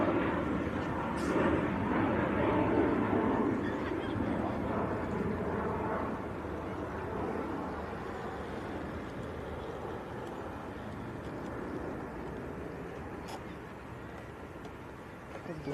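Emirates airliner arriving from Dublin at Manchester Airport, a broad distant jet roar that swells early then slowly fades, with steady background rumble and no clear talk.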